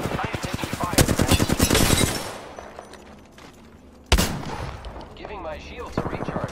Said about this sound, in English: Contact with hostile. Taking fire. Opening fire. I am taking fire.